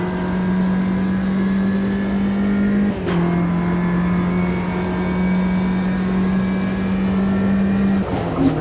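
A Ginetta G40 race car engine in the Automobilista 2 racing game hums at a steady, sustained pitch from the cockpit, with a brief lift and shift near the three-second mark and another near the end.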